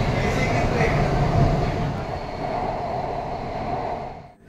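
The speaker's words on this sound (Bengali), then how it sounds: "মহাকরণ থেকে আবারও উঠে পড়লাম হাওড়া ময়দানগামী মেট্রোতে" A Kolkata underwater metro train runs from Mahakaran toward Howrah Maidan with a loud, steady rumble and rushing roar heard from inside the carriage. The sound drops away at the very end.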